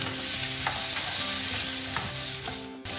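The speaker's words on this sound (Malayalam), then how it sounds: "കട്ട് ചെയ്ത് വെച്ചിട്ടുള്ള പൊട്ടറ്റോ ഇട്ട് കൊടുക്കാം ഇത് നമുക്കൊന്ന് നന്നായി ഒന്ന് വഴറ്റി കൊടുക്കണം" Cut potatoes sauté in coconut oil for a masala curry, giving a steady close sizzle with light stirring and scraping in the pan and no talking.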